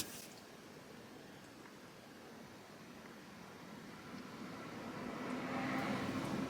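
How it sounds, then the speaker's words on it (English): A car passes by outdoors, a broad steady whoosh of road noise that swells louder toward the end, heard alone with no voices. "So as you can see, car just passed."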